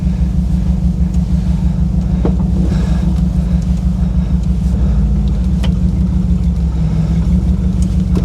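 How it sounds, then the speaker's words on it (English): A 1962 Chrysler with a 440 big block and dual quads, manual transmission, rumbles loudly from inside the cabin while driving, a deep steady engine drone with road and wind noise layered over it. "That's how a big block with dual quads should start"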